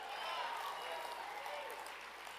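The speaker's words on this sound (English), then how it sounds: "How about another round of applause for Brandon Tatum?" Applause ripples through a crowd at a leadership summit, moderately loud sustained clapping mixed with crowd chatter and a few voices in the room.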